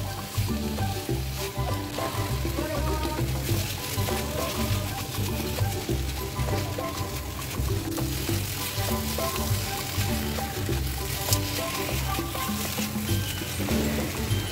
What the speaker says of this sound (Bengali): অ্যাড করে দেওয়ার পর এই পুরো জিনিসটাকে আরেকবার ভালো করে মিক্স আপ করে নেব, দিয়ে ভালো করে কষিয়ে নেব